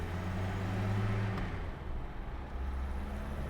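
A restored 1960 Mercedes 190B Ponton with the M121 four-cylinder engine hums and pulls through the gears on a test drive, a steady close drone that shifts tone partway through, with no talking.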